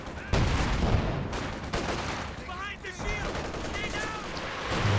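Artillery barrage hitting a base in the World War II strategy game Company of Heroes 2, a dense rattle of distant explosions and gunfire with whistling shells, fairly quiet and continuous.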